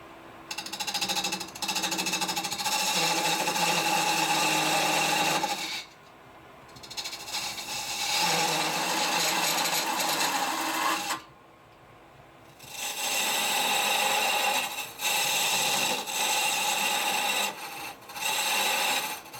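Metal lathe turning down a part to a 1 1/4 inch diameter for the top of a shell-casing door stop, a loud steady grinding hum running in long stretches broken by brief pauses, with no talking.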